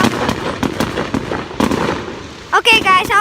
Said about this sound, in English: I hope you enjoyed this quick fireworks show I decided to show you